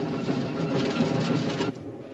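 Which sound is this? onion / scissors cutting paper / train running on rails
train running on rails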